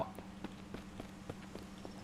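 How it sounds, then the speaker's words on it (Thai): Regular footsteps sound in the zombie survival game Mist Survival, about seven evenly spaced soft thuds at a walking pace over a quiet steady background, with no talking. "เหมือนได้ยินเสียงเท้า"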